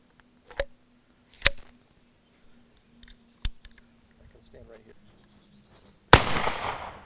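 A 37mm practice round fires with a sharp, loud blast near the end, preceded by several crisp clicks and small handling knocks in a quiet setting.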